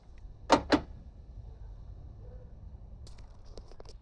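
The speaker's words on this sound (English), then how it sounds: "So I'll leave that just there and pop the fuel door." The fuel door on a V8 Ford Falcon pops open with two quick, sharp clicks close together near the start, followed by faint small rattles.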